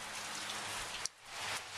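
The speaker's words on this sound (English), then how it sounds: "And it's raining really hard." Heavy rain pours down steadily as a dense, continuous broadband hiss of drops striking surfaces close by, broken only by a brief dip in the middle.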